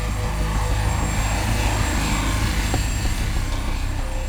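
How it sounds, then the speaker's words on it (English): Two Pratt & Whitney JT-8D jet engines on a Douglas DC-9 roaring at takeoff power, a loud steady broadband rumble with a sustained whine on top, continuous with no talking. "The 2 Pratt & Whitney JT-8D engines roared powerfully, lifting the Douglas"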